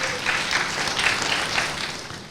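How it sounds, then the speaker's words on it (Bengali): Audience applause at a Bangladeshi parents' award show, steady broadband clapping that holds evenly for a couple of seconds with no voices over it. "আমরা চাই জোরে হাততালি।"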